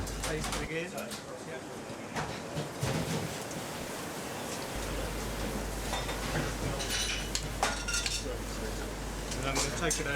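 Cooked quinoa and brown rice porridge stirred in a pan on the stove, a spoon scraping and clinking softly against the metal in a steady rhythm under a constant low hum.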